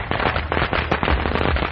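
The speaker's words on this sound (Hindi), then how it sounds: "मकान खाली होने से पटाखों की आवाजें गूंज रही थी" Firecrackers go off one after another on a rooftop beside an empty old house. The cracks come as a dense, rapid, continuous string of sharp pops, loud and close, with no voices heard.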